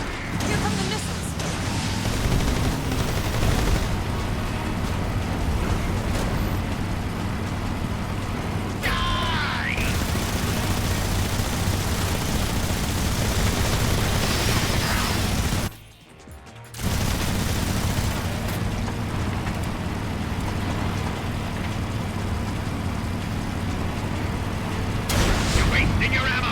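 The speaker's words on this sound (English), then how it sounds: "Here come the missiles!" Incoming missiles and explosions in Metal Gear Solid Delta: Snake Eater, a long, dense rumbling barrage of blasts and gunfire that continues under talk, cut by a brief silence partway through.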